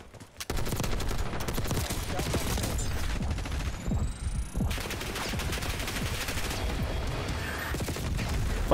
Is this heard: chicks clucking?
no